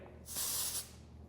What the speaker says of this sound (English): With my current spray right now, let's spray in here.